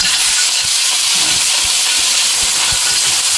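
Green mussels and oysters dropped into a hot pan with garlic and onion, giving a loud, steady hiss of sizzling oil with faint crackles and pops throughout.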